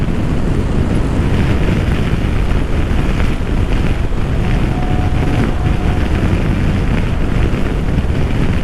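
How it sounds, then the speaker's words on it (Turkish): Heavy, roaring wind buffeting the microphone, constant and loud throughout, while riding at speed on a 2018 Honda PCX scooter. "Bayağı da rüzgar var ha."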